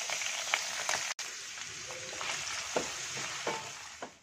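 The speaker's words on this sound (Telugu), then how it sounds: "ఒక చిన్న ఉల్లిపాయ, నాలుగు పచ్చిమిర్చి వేసుకుంటున్నాను" Onion and green chillies with curry leaves frying in oil in a pan for a chicken and chana dal curry, a steady close sizzle with a few soft stirring clicks and no talking.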